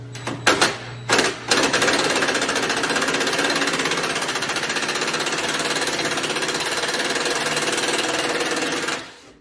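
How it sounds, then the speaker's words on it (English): A power wrench rattles in a rapid, continuous hammering burst that runs for several seconds after a few short starts, loud and close, loosening 10mm engine head bolts on a Lexus RX350. "Now remove the 6 10mm head bolts."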